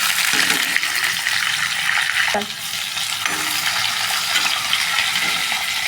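Onion and green chilies fry in a pan with a loud, bright, continuous sizzle, broken by a few scraping stirs of a utensil, close up and with no voices.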